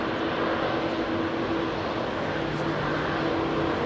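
Etihad's new Airbus A350-1000 jet roars steadily close by on Heathrow's runway 27R, a dense, continuous broadband engine rush with a faint steady whine and no break throughout.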